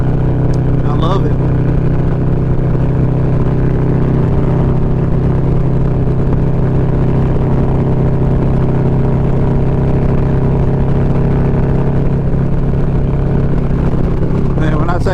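A 2020 Harley-Davidson Road Glide with a 124 engine rumbles with a steady low drone while riding on the road, loud and constant throughout, mixed with wind.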